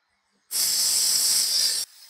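Whole cumin seeds dropped into hot oil for tempering burst into a loud, bright, even sizzle lasting just over a second, then cut off abruptly.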